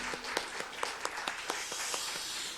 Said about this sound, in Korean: 우리 한번 하나님께 한번 영광의 박수 올려드릴까요?